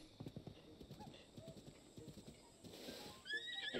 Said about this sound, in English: I've already got myself a horse.